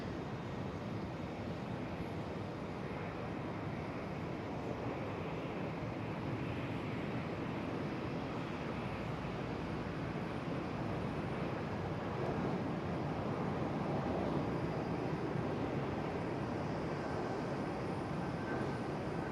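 Swiss Airbus A220-100 airliner at Amsterdam Schiphol, its engines a steady, broadband jet roar that holds evenly for the whole stretch, moderately distant with no voices over it.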